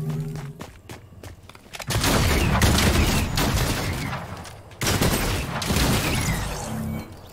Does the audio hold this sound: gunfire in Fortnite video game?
yes